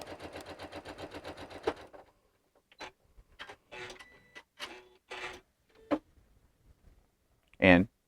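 A sewing machine pushes through thick fabric layers in a two-second burst of fast, even stitching, followed by scattered clicks, handling noises and brief taps of the machine.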